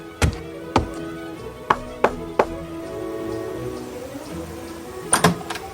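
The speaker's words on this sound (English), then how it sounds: "A man walked briskly up the steps of a little house in the frontier town of Pierre in the Dakota Territory and rapped on the door." A man raps on the door of a little frontier house in Pierre, Dakota Territory, in a radio drama: sharp, close wooden knocks in small groups, two single, then three, then a quick pair after a pause.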